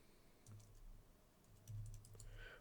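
Quiet computer keyboard typing while entering Node.js code, a few soft key taps in short bursts, close and faint, with no voices.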